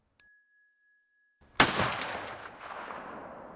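A .308 bullet from an HK91 rifle strikes a steel dueling tree target: a lone sharp metallic ding that rings on with a long tonal decay, followed a moment later by the loud crack of the shot and its rolling echo outdoors.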